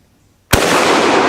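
A single close, sharp rifle shot from a German Mauser fired outdoors at a hillside target, a sudden loud crack followed by a sustained roaring echo that fills the rest of the moment.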